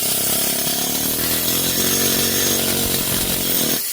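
A small, cheap air hammer pounds on a stuck, rusted hub bearing: a loud, continuous mechanical buzz with rapid harsh rattling, steady throughout and cutting off abruptly at the end.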